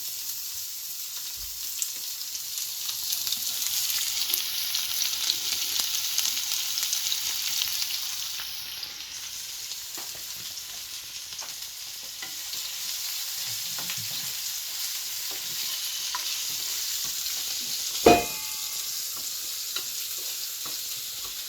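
Chopped onions and broken red chillies fry in a pan, giving a steady, moderate sizzle that runs for over twenty seconds, with a faint stir now and then and one short knock near the end.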